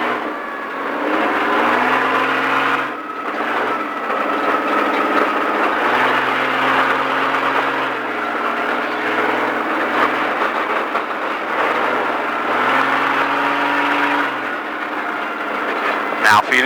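A car engine revs under throttle on the Speed Vegas track in Las Vegas, its loud, tonal whine rising and falling in repeated pulls while an instructor's voice talks over it.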